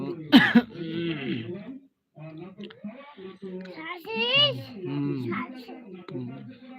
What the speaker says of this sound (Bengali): কাশি